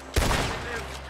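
A single sharp gunshot cracks out near the start in Red Dead Redemption 2, close and loud, then gives way to a steady rumbling game background.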